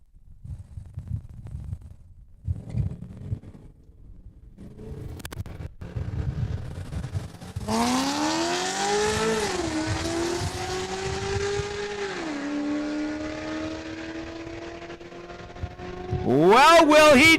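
Drag race cars launch from the starting line at Saskatchewan International Raceway in Saskatoon, first quiet crowd-like murmur, then a loud engine roar rising in pitch through gear changes, sustained and fading, ending with another sharp high-revving burst.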